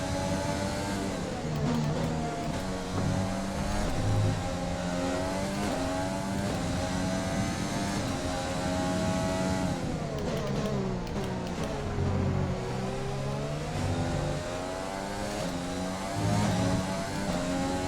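A Formula 1 race car engine in the F1 2020 racing game at the Canada race, revving and shifting through gears with a continuous high whine that rises and falls as the car accelerates, loud and up close.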